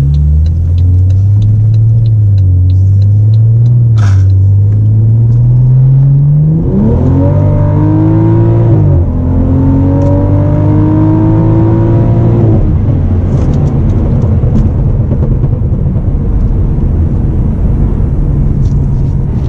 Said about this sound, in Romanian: Și pornim la drum. Stai să ies din parcare.